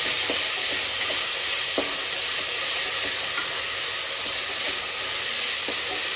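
Two large sliced onions sizzle steadily in a hot pan for a prawn biryani, with soft scraping taps of a spoon mixing them at irregular moments, close and continuous, no voices.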